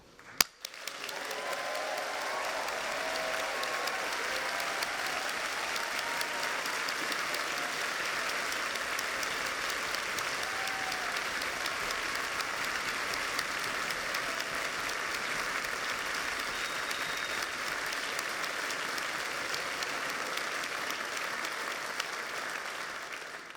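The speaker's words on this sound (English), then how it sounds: "join me in giving a huge round of applause and a loud cheer to our graduates" A large graduation-ceremony crowd at the University of Aberdeen applauds and cheers its graduates, sustained dense clapping that holds steady and loud throughout, with no speech over it.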